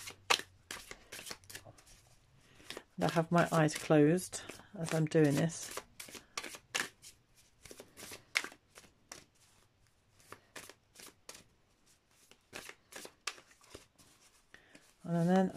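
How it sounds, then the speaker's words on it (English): A deck of oracle cards is shuffled close by in quick riffling, tapping bursts that continue throughout, with a person speaking briefly over them. "So I'm going to shuffle these cards."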